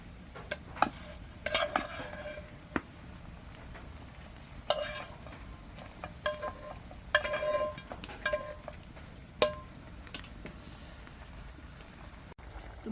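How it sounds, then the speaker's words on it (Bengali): Shrimp simmer in boiling curry gravy in a pot, a quiet bubbling hiss punctuated by sporadic close utensil clinks and scrapes from stirring. "ঝোলটা ফুটে উঠেছে, এখন হচ্ছে মাছগুলো দিয়ে দিব।"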